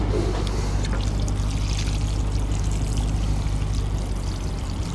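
Water is poured steadily over a 2015 BMW 650i xDrive to check a repair for water getting into the rear seats, giving a continuous loud rushing pour with a low hum underneath.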